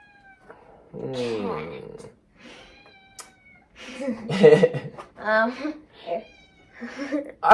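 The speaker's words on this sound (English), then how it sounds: "We've got a cat in the house." A house cat meows several times, drawn-out and fairly close, in a quiet indoor room between pauses.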